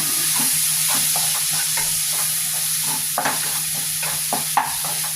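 Masala with hot chili powder sautés in a pan, a constant close sizzle broken by repeated scraping strokes of a spoon stirring the mixture, with no voices.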